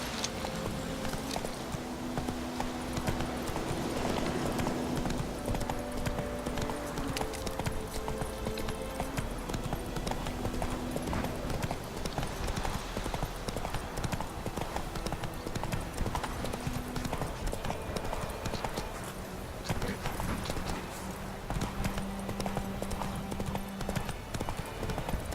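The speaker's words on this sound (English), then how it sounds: "There's my horse." Horse hooves clip-clopping steadily in The Witcher 3, a continuous walking rhythm that stays faint under busy game ambience and music.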